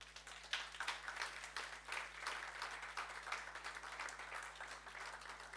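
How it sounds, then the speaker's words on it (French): A church congregation applauds with a sustained, fairly faint patter of many hands clapping, irregular and continuous, heard at a distance over a low steady hum. "Vous êtes courageux d'applaudir à mourir."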